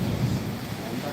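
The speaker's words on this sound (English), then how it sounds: "there's thunderstorm, lightning, rain." Heavy rain pours steadily through a thunderstorm in Assam, India, with a deep low rumble of thunder under a dense wash of noise throughout a brief stretch.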